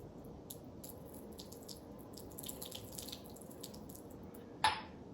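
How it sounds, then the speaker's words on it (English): Water poured quickly onto a sponge in a runoff demonstration: a steady wash of running water across the whole stretch, with a short sharp splash near the end. "I pour it on the sponge much faster"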